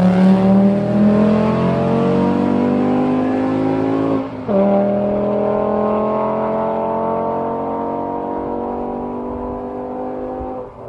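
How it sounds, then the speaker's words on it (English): Volkswagen 2.5 liter engine with aftermarket intake and exhaust revving loudly and close, a sustained rising roar with a brief dip partway before climbing again, then slowly easing off; no talk. "when you do have an intake and an exhaust on these, they sound absolutely amazing"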